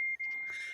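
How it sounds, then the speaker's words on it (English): A single electronic beep, a thin steady high tone lasting under a second with a brief dip, faint and close, heard over quiet room sound during an interview. "somebody's beeping."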